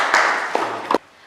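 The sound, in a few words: group clapping for a student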